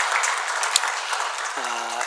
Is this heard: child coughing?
no